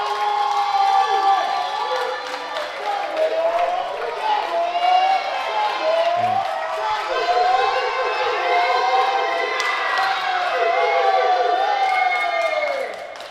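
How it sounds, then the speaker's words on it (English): A crowd at a co-ed championship game cheers and yells loudly and continuously, with whistles and shrill whoops rising above the roar; scattered voices mix in. "As you can hear, there's a lot of excitement in the crowd right now"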